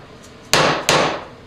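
Two sharp hammer taps seating a metal assembly into place on a production line, close and loud, evenly spaced with brief ringing decay.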